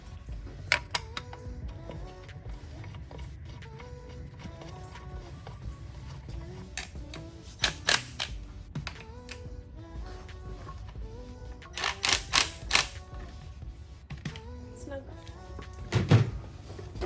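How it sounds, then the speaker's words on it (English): Ratchet snugging transmission bolts on a Corvette T56 in a workshop, heard as scattered clicks and short metallic bursts, with a denser cluster of ratcheting taps near the middle and a clunk near the end over low background hum. "get a ratchet on there and snug them"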